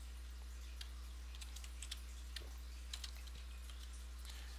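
Faint, irregular key taps on a computer keyboard over a steady low hum, scattered light clicks with no talking.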